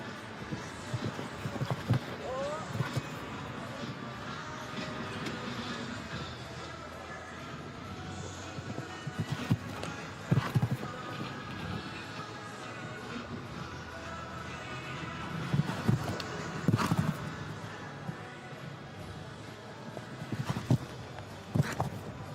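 Horse hooves clip-clop across the arena at a Nations Cup show jumping event in St Gallen, with occasional heavier thuds amid steady crowd and ambient noise under a commentator's voice.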